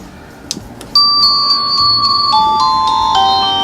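A CSHope wireless doorbell rings a bright, clear electronic chime, with a few soft clicks before a sustained two-tone ding-dong that rings out close by.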